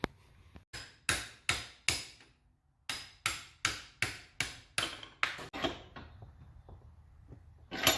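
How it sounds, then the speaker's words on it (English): A hammer strikes a metal car part on a Mazda RX-7 during a clutch job, a run of about a dozen sharp, evenly spaced blows with a brief pause midway, close and ringing, no talking. "So we'll go ahead and hammer this off"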